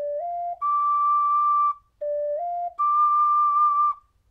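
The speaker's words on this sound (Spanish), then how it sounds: "El primer paso de esta canción comienza en la nota re y termina en la nota re alto, que suena así." A 12-hole ocarina plays two short ascending phrases, each stepping up from a low note to a sustained high note, the opening step of Song of Storms, clear and solo with a brief pause between.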